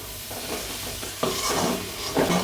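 Chicken pieces being stir-fried in a hot pan over a low flame for fried rice, with continuous close sizzling and repeated scraping, tossing strokes of a spatula against the metal.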